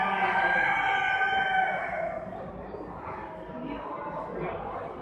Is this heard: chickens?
yes